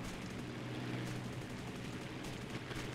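Machine guns of a CR32 biplane in War Thunder rattle in a dense, continuous burst over the drone of the aircraft, loud and close throughout.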